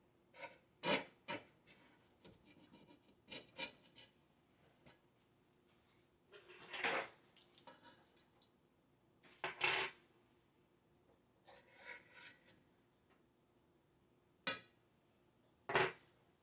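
Knife cutting into a pan of hot homemade jalapeno cornbread, a series of scattered scraping and rasping strokes with light clinks, quiet and close, with pauses between cuts.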